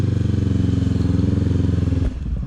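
A Honda CB500F motorbike idles at North Weald Airfield with a rapid, throbbing twin-cylinder rumble, close and loud, and a brief clunk near the end as the engine note drops.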